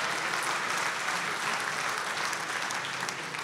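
Congress attendees applauding in a large hall, even continuous clapping from a big crowd heard at a moderate distance, steady throughout without talk.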